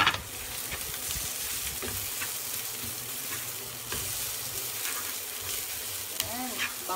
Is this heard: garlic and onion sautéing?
yes